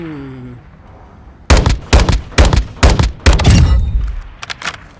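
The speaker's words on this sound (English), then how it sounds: "We're going to try it on full auto. We're going to tap fire full auto." An assault rifle on full auto in Modern Warfare 2 fires in short tap bursts, about seven sharp, punchy volleys in quick succession, then fades into a reverberant tail with a few faint clicks.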